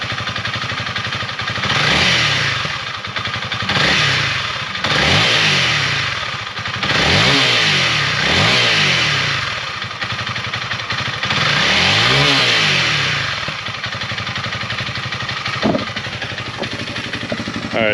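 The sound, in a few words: Honda CRF300L motorcycle engine revving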